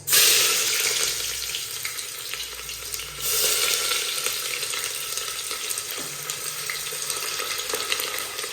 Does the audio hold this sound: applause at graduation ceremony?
no